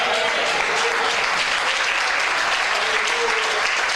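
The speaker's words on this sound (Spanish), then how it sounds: "Ese aplauso me huele a almuerzo." A church congregation applauds together, a steady, dense wash of clapping that fills the space from start to finish with no pauses.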